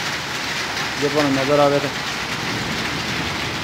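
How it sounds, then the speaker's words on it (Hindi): Rain falls steadily in Al Baha, a continuous close hiss of drops that runs under a voice speaking throughout. "बारिश हो रही है"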